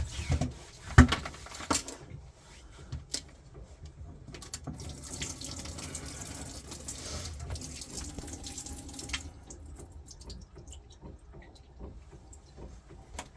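Pink antifreeze pours down the kitchen sink drain of a 1999 Tiara 3100 Open boat being winterized, a steady running, gurgling liquid flow with a few knocks and clunks near the start.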